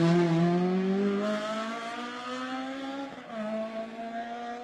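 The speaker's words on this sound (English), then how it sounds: "Eddie Corbin there, running in the Hancock tyres on the little Daihatsu" A little Daihatsu rally car on Hancock tyres drives past at Rally Barbados, its engine revving in a loud, bright drone that eases off, then picks up again after a brief dip, with no one talking.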